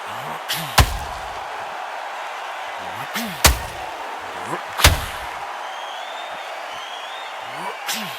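Heavy punches landing in the Undisputed boxing video game, three sharp thuds spaced a couple of seconds apart over steady crowd murmur, with a lighter hit near the end.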